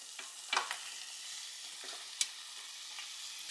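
Mushrooms, scaled onion and capsicum are stirred and fried in oil, giving a soft steady sizzle with a few sharp scraping clicks from the spatula, fairly quiet and with no talk.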